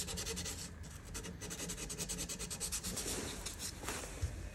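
Hand sanding on the wood of a 1953 Gibson L-50 guitar with 400 grit sandpaper: quick repeated back-and-forth rubbing strokes, close and fairly quiet, with no voices.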